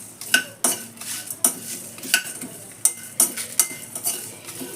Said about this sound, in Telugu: కాస్త సన్న మంట పైన స్లోగా వేయించుకోండి